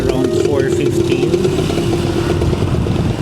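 A Yamaha Aerox V3 scooter-style motorcycle rides along with a steady, close engine drone and road rumble, a voice talking over it throughout.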